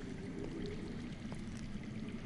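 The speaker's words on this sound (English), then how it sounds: "I hear water. From underground?" Water flowing underground in a video game, a steady broadband rush and trickle that holds at an even level throughout, with no voices.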